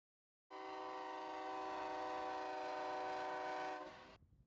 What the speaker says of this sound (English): Blaring train horns are just about the only sound that cuts through the silence